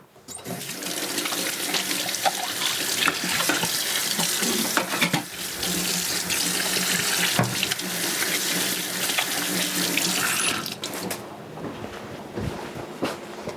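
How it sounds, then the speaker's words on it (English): Tap water runs steadily as hands are washed beneath it in a home kitchen during meal preparation, a continuous close splashing hiss that stops abruptly near the end. "I'm gonna stop with these mushrooms and wash my hands"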